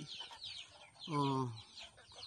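A chicken clucks nearby in a small plant nursery, with one drawn-out squawk in the middle, surrounded by soft scratchy background noise.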